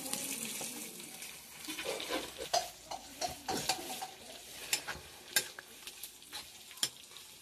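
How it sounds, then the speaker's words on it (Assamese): Eggplant fritters frying in hot oil, with a steady sizzle broken by irregular clicks and scrapes of stirring and utensils against the pan, fairly close and moderate in level. "বেগেনা বড়া তেলত দি দিলে"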